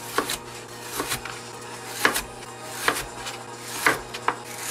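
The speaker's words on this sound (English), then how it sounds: "We're gonna julienne cut it." A knife julienne-cuts a sweet yellow onion on a board, giving sharp, evenly spaced chops about once a second, each a crisp tap with a short rustle, fairly close and alone.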